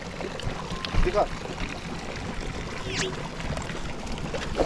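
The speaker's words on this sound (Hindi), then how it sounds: "ये है वो जो मेन कुंड है जहाँ से पानी बाहर आ रहा है।" Water flows steadily out of the main spring tank at Kalpeshwar Temple in Uttarakhand, a continuous close rushing wash with faint outdoor background sounds.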